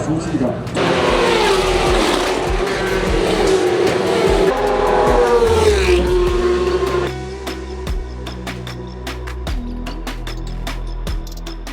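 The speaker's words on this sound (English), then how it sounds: "watching a motorbike go around" A racing motorbike engine roars loudly as it races past on the Macau Grand Prix street circuit, its pitch sweeping and fading, with some voices faintly underneath.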